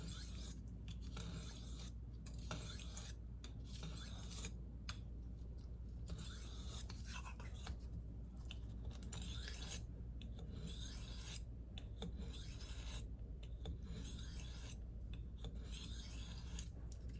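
A blade is sharpened on a new hard Arkansas stone, a soft, rhythmic rasping of steel stroked back and forth across the stone, repeated steadily at close range with brief gaps between strokes.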